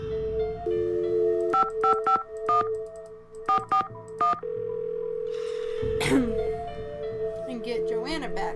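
Telephone keypad dialing tones from a phone in a Nancy Drew mystery game, a series of short beeps in uneven groups over a steady dial tone, followed by a brief rustle and some electronic sounds.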